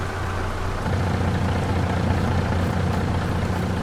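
A farm vehicle idles at a sawmill in Farming Simulator 22, a continuous low, even engine rumble with a steady hum, close and alone without any voices.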